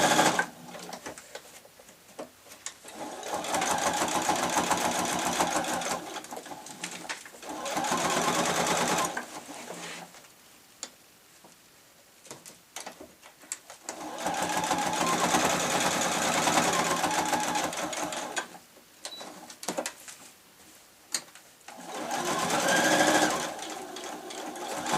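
Sewing machine running a long basting stitch through fabric for a shabby chic tablet case, with bias tape to follow. Several steady motor bursts of a few seconds each, separated by short pauses, close and clear.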